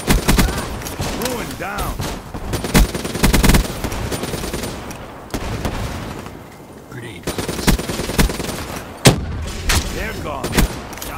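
Rapid bursts of automatic gunfire and single shots from the Call of Duty Black Ops III video game crack in irregular volleys, mixed with thuds and shouted voices.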